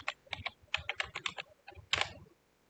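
Password being typed on a computer keyboard, a quick run of close, crisp keystrokes in bursts with brief pauses, then a few final taps and quiet.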